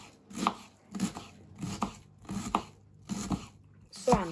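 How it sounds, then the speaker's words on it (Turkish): Steady knife chopping of onions on a board, six firm chops about every three-quarters of a second, close and clear with no talking. "Şu şekilde soğanlarımızı doğrayacağız."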